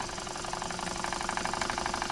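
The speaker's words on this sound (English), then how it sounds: "It's a PM Research oscillating steam engine" A small PM Research AM2 oscillating steam engine runs steadily, its quick even chuffing and knocking pulses repeating close by, with no talk over it.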